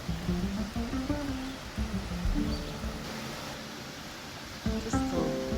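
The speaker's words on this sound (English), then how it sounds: "Just the sound of the water is soothing." Fresh water of a river or stream flows in a steady, close rushing wash that never breaks, while a voice talks over it in places.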